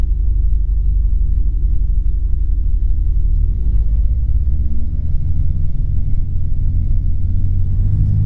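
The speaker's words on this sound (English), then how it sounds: "Power in, aircraft starts rolling, bit of acceleration." A microlight aircraft engine holds a loud, steady drone at full power as the plane rolls down the runway for takeoff in Scotland. The low rumble stays close and constant, with the pitch edging upward as it accelerates.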